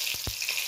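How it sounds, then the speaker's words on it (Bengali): Green chilli and asafoetida hitting hot oil for a spinach potato curry, a short bright sizzle close by with a couple of soft pops. "একটুখানি কাঁচা লঙ্কা দিয়ে দিলাম, একটুখানি হিং দিয়ে দিলাম,"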